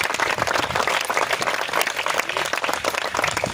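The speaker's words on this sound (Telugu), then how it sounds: "సో దీని మొత్తానికి ఇన్ఛార్జ్ అయినటువంటి ముంతాజ్ గారిని, వారి బృందాన్ని మనము చప్పట్ల ద్వారా ఆహ్వానించుకుందాం." A crowd at an ambulance donation event claps loudly to welcome Mumtaz and her team, a thick, close, sustained burst of many hands with scattered sharper claps throughout.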